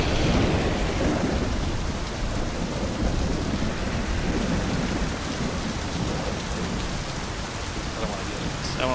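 Steady, dense rain falls at night in the video game My Summer Car, with rumbling thunder rolling beneath the downpour for the whole stretch.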